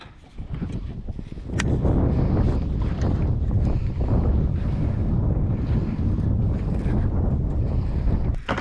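A fishing boat's outboard motor runs on the windy California Delta, a loud continuous drone mixed with heavy wind buffeting and water noise, starting quieter then holding steady.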